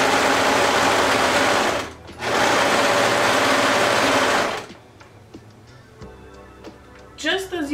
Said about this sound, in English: I'm going to sew with a quarter of an inch seam allowance on my serger.